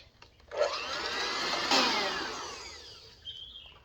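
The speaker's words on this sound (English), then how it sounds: "Now we're going to whisk this together until it turns thick." A creamy lemon dessert mixture is whisked until thick, giving a steady, close motorized whirring that lasts a few seconds and then winds down.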